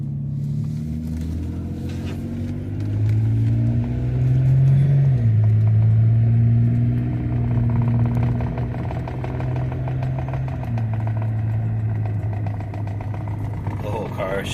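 A Pontiac G6 convertible, revived after years in storage with a dry transmission and a shaking car and wheel, rumbles and drones through a test drive, engine pitch rising and falling with shifts, loud and close.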